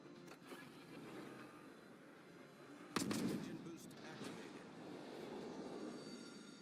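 A Clemson destroyer's guns fire in World of Warships: one loud, sharp salvo lands about midway, over a continuous low rumble of the ship underway.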